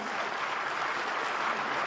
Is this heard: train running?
no